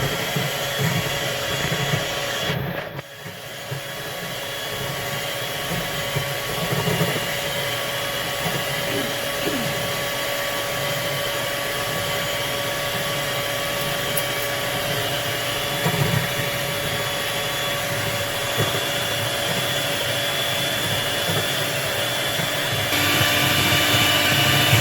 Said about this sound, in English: You're going to whisk for 2 to 3 minutes before you start adding other ingredients